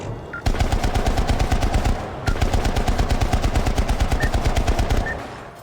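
Sustained automatic gunfire from shooting enemies in the video game Syndicate, two long rapid bursts of loud, evenly spaced shots split by a brief pause, with no talking.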